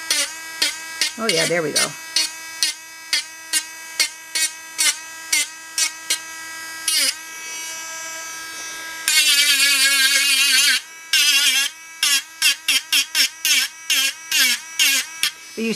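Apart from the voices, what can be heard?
Dremel rotary tool cleaning a doll head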